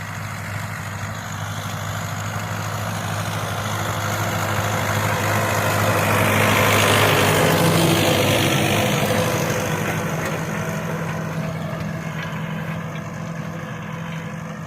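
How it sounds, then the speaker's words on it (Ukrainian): An MTZ-82 tractor fitted with a 1025-type engine runs steadily while pulling 6-metre field rollers, a loud continuous low diesel drone that swells slightly as it passes close by mid-clip, with no talking. "Це наше МТЗ з двигуном від 10-25 і катки 6-метрові."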